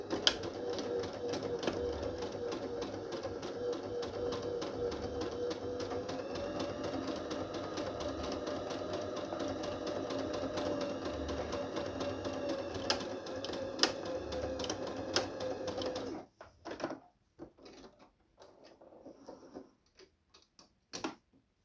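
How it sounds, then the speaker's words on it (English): A sewing machine runs steadily for about sixteen seconds, its fast even ticking stitch joining pieces of shell and lining fabric for a dress, then stops, leaving faint handling noises. "We're gonna sew those together, right, one by one"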